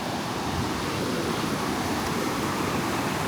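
Ocean surf roars in a steady, dense rush of breaking waves on the shore. The sound is loud and continuous, with some wind mixed in and no voices.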